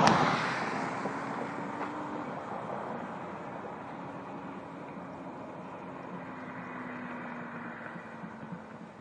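A Toyota Supra with a 1JZ-GTE engine rolls past slowly, its faint idling drone and low tone drifting steadily as it moves by at a distance, with a soft hum fading slightly over time.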